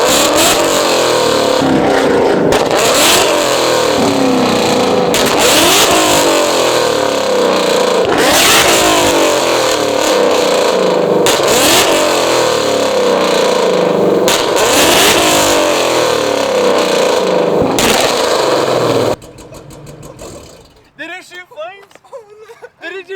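A first-generation Ford Coyote V8 car engine revs hard again and again in loud repeated surges with sharp exhaust pops and flames, then cuts off near the end, leaving scattered crackles.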